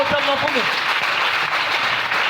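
A church congregation applauds and cheers the Lord, a loud continuous wash of clapping with voices mixed in and a brief vocal cry at the start.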